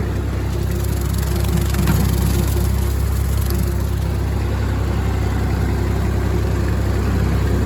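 An MF 50 diesel tractor pulls an old 5-foot Hardee rotary cutter through a field in low range third gear, giving a loud, steady, close engine drone that holds unchanged throughout.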